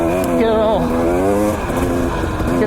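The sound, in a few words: two-stroke carbureted dirt bike engine being revved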